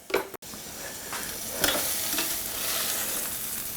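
Food sizzles and crackles steadily as it cooks in a Ninja Foodi Smart XL Grill, with a short clatter of tongs at the start before the frying noise settles in close and constant.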